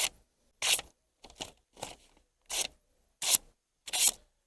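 An Oplot knife slices through a sheet of paper in about seven short, crisp cuts, each a quick dry rasp separated by brief pauses, close and quiet.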